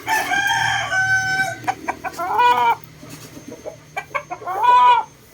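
A McLean Hatch gamefowl rooster clucks and gives short crowing calls close by, in several loud bursts separated by quieter pauses over a few seconds.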